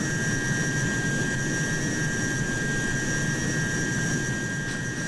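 Hawker Sea Hawk jet fighter in Flight Simulator 2020 climbing toward the clouds at about 3,000 feet: a steady, loud cockpit roar of the jet engine with a constant whine on top, unbroken and without talk.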